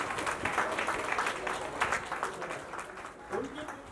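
A crowd at a community cultural programme claps to honour a guest, a soft, fairly distant patter of applause that lasts throughout, with a voice briefly heard near the end.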